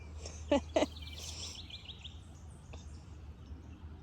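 Birds chirp in a garden with wild strawberries: two sharp, close chirps in quick succession, then fainter twittering against a quiet outdoor background.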